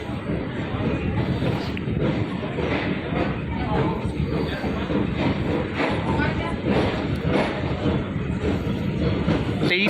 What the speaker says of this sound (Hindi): ये जो हमारी ट्रेन है ये प्लेटफॉर्म नंबर 3 पर आ चुकी है